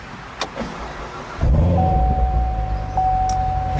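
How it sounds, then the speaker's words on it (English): A 2014 Chevrolet Corvette Stingray engine cranks from a push-button start and catches, settling into a deep, steady idle after a brief quiet start with a few small clicks. "So to start it, just put your foot on the brake and push the button to start the engine."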